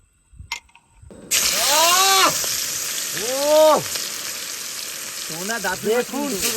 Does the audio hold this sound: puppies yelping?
no